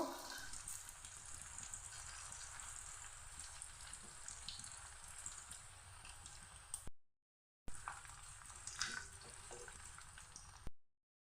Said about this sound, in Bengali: মিডিয়াম করেই ভাজবো, তাহলে মুচমুচে হবে